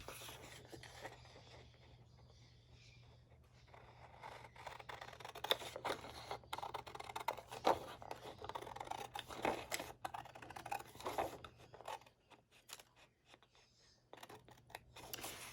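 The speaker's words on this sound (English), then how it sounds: "So I'm just going to cut into that score line there." Paper being cut along a score line on a 12-inch craft sheet, with soft intermittent scissor snips and scraping strokes at close range over a low steady hum, no talking.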